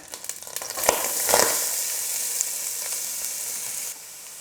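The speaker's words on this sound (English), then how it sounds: "what I'm going to do next is to put in the onions" Onions drop into melted butter and oil in a pan for a Bolognese sauce and burst into a bright, loud sizzle that holds steady, with a few clatters as they land.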